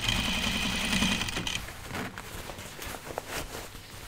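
A sewing machine stitches a jeans pocket bag in a brief close run of rapid buzzing at the start, then stops, leaving soft handling and fabric rustling sounds.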